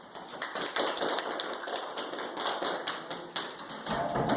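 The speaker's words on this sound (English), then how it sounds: "So give yourselves a big round of applause." Dense applause from a crowd, many hands clapping in a continuous patter that holds steady and swells slightly at the end.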